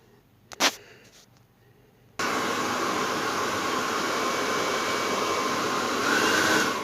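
A new hair dryer switches on after a few faint handling clicks and then blows steadily with a loud, even rushing whir close to the microphone, with a slight shift in pitch near the end.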